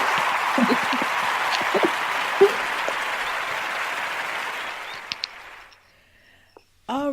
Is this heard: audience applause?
yes